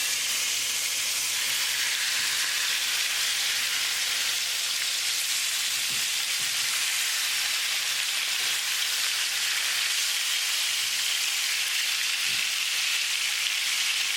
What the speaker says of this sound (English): We're going to add beef.